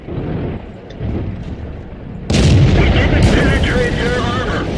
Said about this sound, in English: Shot goes a little high there, hits his gun mantlet, and only 160 penetration.